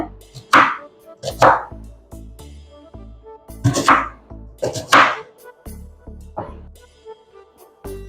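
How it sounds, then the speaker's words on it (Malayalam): Knife chopping onion into small square pieces on a board for a Kerala vada curry, a run of sharp close thunks in small bursts with short pauses between strokes. "സവോളയും ഇതുപോലെ തന്നെ ചെറിയ കഷ്ണങ്ങളായിട്ട് മുറിച്ചെടുക്കണം"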